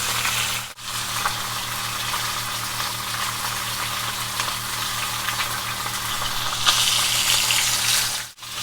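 Steak sears in a hot cast iron skillet, giving a steady loud sizzle with dense crackling pops that carry on without a break.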